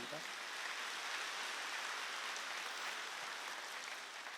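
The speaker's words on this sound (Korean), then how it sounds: "박수." A church congregation claps during a Wednesday worship service, producing a steady, dense wash of applause that holds evenly for several seconds without any voice standing out.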